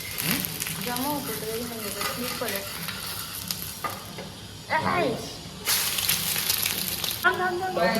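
An egg frying on a hot griddle in a home kitchen, steady sizzling with stirring and scraping sounds, under someone talking close by, the sizzle surging louder in bursts.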